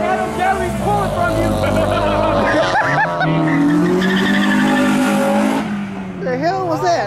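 A Honda EP3 at a car meet spins its tires in a burnout, a loud, sustained squeal with engine roar running for several seconds while voices and crowd noise mix in close by.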